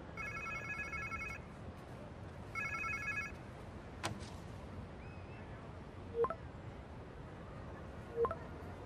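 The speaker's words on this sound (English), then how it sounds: "Sounds like somebody's phone." An electronic phone ring in the video game Marvel's Spider-Man 2 sounds in two short trilling bursts over low ambient background, followed by a few sharp clicks and tones.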